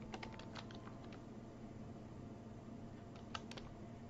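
Computer keyboard keys are typed in short quiet bursts of clicks over a low fan hum, close by and with no talking.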